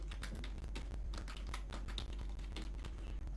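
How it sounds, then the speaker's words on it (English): Rapid keystrokes on a computer keyboard as a password is entered, close and fairly even in rhythm, a steady run of light clicks over a constant low hum. "You type in the password"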